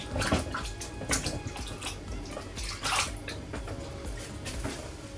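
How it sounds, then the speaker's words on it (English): Hands are washed under a running kitchen tap while cooking, a steady close rush of water with splashes and drips throughout, no voices. "I'm going to wash my hands."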